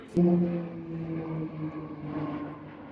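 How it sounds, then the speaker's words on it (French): A propeller airplane passes overhead above farm fields of rapeseed and cover crops, a steady droning engine tone holding for the full stretch, loud and close at first and then easing slightly while staying continuous. "Un avion met en pause."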